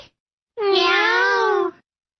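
Cat meowing indoors, hiding behind a television: a single drawn-out, clear meow, close and loud, set against near silence.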